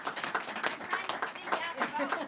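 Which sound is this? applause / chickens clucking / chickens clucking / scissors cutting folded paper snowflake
applause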